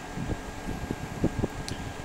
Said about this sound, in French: une clim, d'où le bruit.